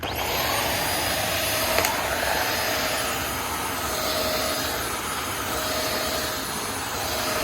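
A Dirt Devil upright vacuum cleaner runs steadily, a loud, continuous whirring roar with a high whine, with no voices.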